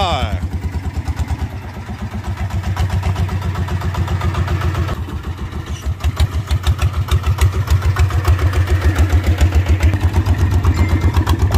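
A homemade power tiller converted into a mini pickup truck runs nearby with a single-cylinder engine, its loud rhythmic chugging holding steady and then quickening as it pulls along, while people talk over it.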